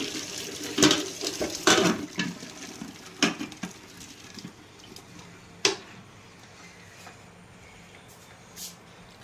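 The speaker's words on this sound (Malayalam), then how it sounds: "ഇനി നമുക്ക് ആ വെള്ളം ഊറ്റിക്കളയണം" Cooking water is poured off boiled tapioca in a home kitchen, giving several splashy bursts and trickles with a pot clatter, fairly close and moderately loud, then quieter dripping.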